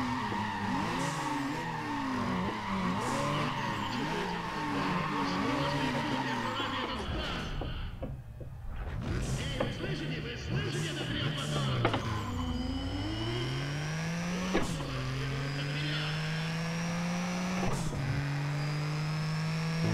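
Race cars in Need for Speed: ProStreet, including a 240-horsepower car on a quarter-mile run, with steady engine roar, rising and falling revs through gear shifts, and tire noise throughout.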